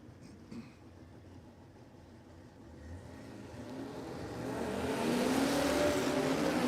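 Radial drag racing cars, a Toyota Corona and a Toyota Hilux, launching at Warwick Dragway in Australia, engines swelling from a distant rumble into a loud rising roar over several seconds, no voices.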